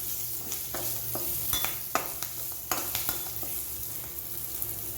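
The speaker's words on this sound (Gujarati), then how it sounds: "હવે આપણે તેની અંદર લસણ અને મરચાંને નાખી દઈશું. અને આને સાંતળી લઈશું." Garlic and green chillies sautéing in a pan for a mung bean recipe, a steady close sizzle with a few sharp scraping stirs and utensil clicks throughout, no voices.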